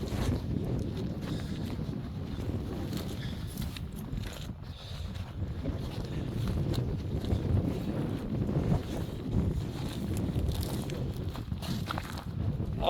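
Wind gusts steadily outdoors near an old mine, a continuous low buffeting rumble against the microphone with faint scuffs of movement and no speech.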